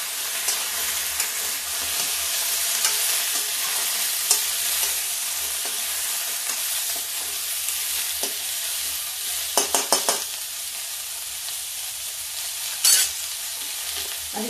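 Pumpkin pieces stir-fry in a hot pan with a steady, bright sizzle, broken by a few short spatula scrapes and clacks near the end.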